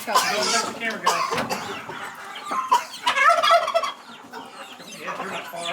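Chickens cluck and squawk close by while being moved to pasture, frequent busy calls throughout, with people talking among the birds.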